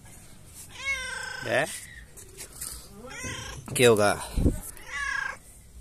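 A cat meows several times over a few seconds, with loud, bending cries rising and falling amid the voices of people chatting nearby.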